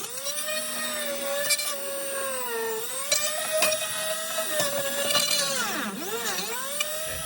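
A power drill bores through thick plastic in a 2018 Ford F250 XLT dash panel, a steady high-pitched whine with shifting pitch that dips and rises as the bit bites, running continuously and close with no talking.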